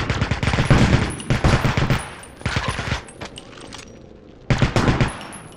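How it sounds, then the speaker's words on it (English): Rapid bursts of automatic gunfire from a video game, Resistance: Burning Skies, loud and close, firing in several sharp volleys separated by short pauses, with a harsh, crackling texture. "The gun sounds are extra offensive"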